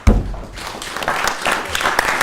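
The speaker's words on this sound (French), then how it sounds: "Merci d'applaudir Gonaël Ségalen." Crowd applause, a broad patter of many hands clapping, steady and moderately loud for a couple of seconds after a low thump at the start.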